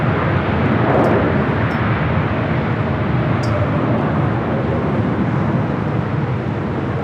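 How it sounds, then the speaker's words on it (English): Boeing 777 freighter of China Cargo landing on runway 25 left at Los Angeles International Airport, a loud steady broadband jet roar that holds throughout with slight swells and no talk. "China Cargo 777 freighter touching down on the south side at 25 left."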